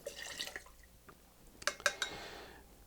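Lemon juice is poured into a Philadelphia Fish-House Punch cocktail mix, a faint liquid trickle with a few soft drips and light glassy splashes, quiet and close.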